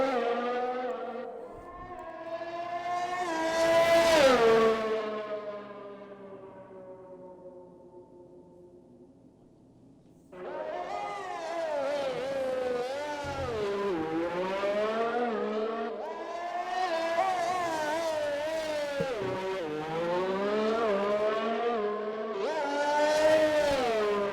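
A Mercedes race car on a flying lap in a racing video game, its engine screaming loudly through rising gear changes, briefly dropping off before surging again through repeated high revs and upshifts.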